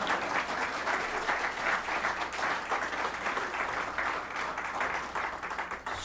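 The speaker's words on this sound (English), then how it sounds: "That deserves a round of applause" A large audience at a California political event applauds Democratic Leader Nancy Pelosi, a dense, sustained roar of clapping that stays steady and fairly loud throughout, with only faint crowd murmur beneath.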